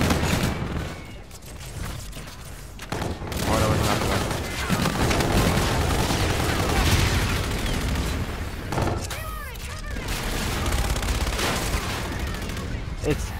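Rapid automatic gunfire rattles through close-quarters multiplayer combat in Call of Duty Infinite Warfare, loud and dense bursts overlapping almost continuously, with a voice talking over the firefight.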